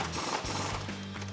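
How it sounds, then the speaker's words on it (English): A ratchet with a 16mm swivel socket tightens the upper strut bolts on a 2011-2019 rear-wheel-drive Dodge Charger, giving a brief run of close mechanical clicks. "And then I'll grab my 16mm swivel socket to tighten those down."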